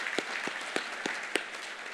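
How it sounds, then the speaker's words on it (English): Sparse applause at a conference forum for Dr. Henry Wang, heard as a faint, steady patter of clapping from a seated audience with a few distinct individual claps standing out. "Let's give him a round of applause as well."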